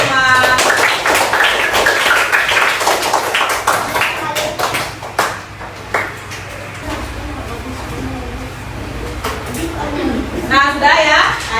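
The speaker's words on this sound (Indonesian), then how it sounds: "Tepuk tangan untuk kalian semua." Students clap their hands in a classroom during a lesson, a burst of sharp, quick claps that thins out into scattered taps, with a teacher's voice speaking over and after it.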